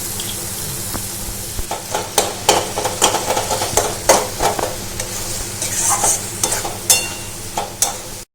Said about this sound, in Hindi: मसाला हमारा अच्छे से फ्राई हो गया है